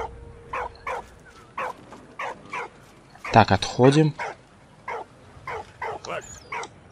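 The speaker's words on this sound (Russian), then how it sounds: "Хорош там гавкать." A dog barks in the video game Valiant Hearts: The Great War, a series of short, evenly spaced yaps and whimpers of moderate loudness with someone talking briefly in the middle.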